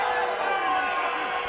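Boxing fans supporting the fighter Valdovinos shout and call out from the arena stands, forming a dense, continuous roar of many voices with no single voice standing out.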